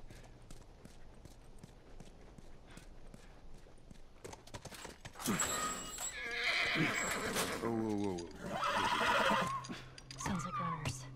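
A horse whinnies twice, loud and close, over steady clip-clop hoofbeats, with a faint voice in the background, in the video game The Last of Us.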